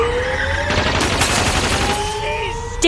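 Rapid gunfire rattles in a dense, loud burst over roaring engines and screeching tires in a game car chase, with bright tonal whines sweeping through and no voices over the shooting.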